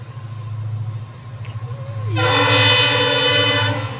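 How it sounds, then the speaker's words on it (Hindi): A container train on the line toward Mundra port rumbles past close by with a low steady roll, then a loud sustained horn blast cuts in halfway through and holds to the end. "ये तो कंटेनर ट्रेन है भाई।"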